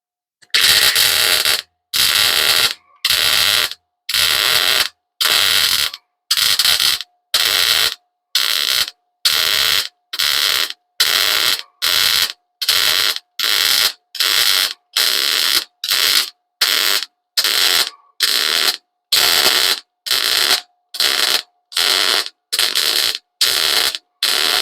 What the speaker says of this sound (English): Let's keep welding.